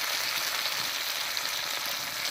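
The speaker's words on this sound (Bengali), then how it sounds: "এবার এর মধ্যে দেবো একটা বড় সাইজের টমেটো কুচি এর উপরেই দেবো সামান্য একটুখানি লবণ" Chopped tomato and salt hit hot oil in a pan with fried onion and giant taro, giving a steady, loud, close hiss of sizzling frying with no voices.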